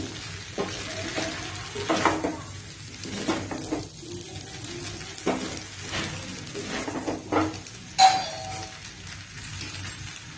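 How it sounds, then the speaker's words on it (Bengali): Vegetable chowmein with sugar being stirred in a pan, repeated scraping strokes of a utensil against the metal in an uneven rhythm over a soft sizzle, with one sharp clink, close by and without talk. "চিনিটা দিয়ে একটু ভালো করে নাড়িয়ে নিচ্ছি।"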